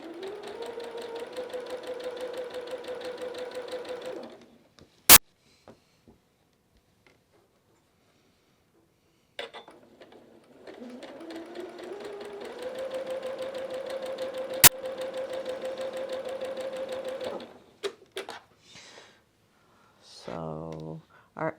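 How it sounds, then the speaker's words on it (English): Sewing machine stitching alphabet quilt blocks, a steady whirring run of rapid needle strokes for several seconds, a quiet pause, then another long continuous stretch of stitching ending in a brief final burst. "I'm going to go ahead and sew the other part"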